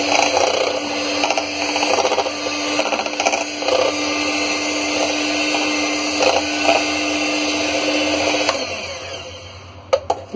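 Pancake batter made with milk is beaten hard in a bowl, producing a continuous whirring, mixer-like drone with rattling texture that cuts off near the end, followed by a couple of sharp knocks.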